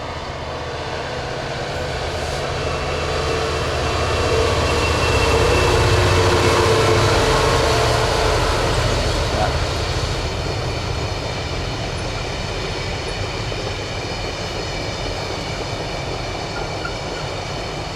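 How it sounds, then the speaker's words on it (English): A long freight train rumbles past on a Scottish Highland line near Loch Treig, a loud, continuous roar and clatter of wagons that swells in the middle and stays heavy to the end, with no voices. "It's a freight train."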